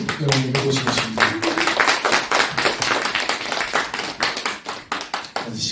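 An audience at a community lecture concert claps to welcome a speaker to the stage: loud, rhythmic hand claps in a steady pulse, with a voice briefly heard at the start.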